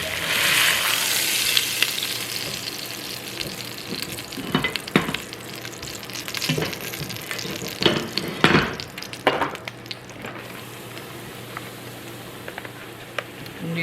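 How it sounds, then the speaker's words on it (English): Flour and a roast browning in hot oil for pot roast gravy, a steady sizzle with scraping stirs and a few sharper clatters of a utensil against the pan. "stir that around in your oil and brown it"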